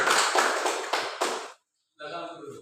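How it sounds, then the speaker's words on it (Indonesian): Classroom applause for a student group, a burst of hand claps with several loud accented hits lasting about a second and a half, then a brief silence before a voice begins speaking. "tepuk tangan untuk kelompok 4"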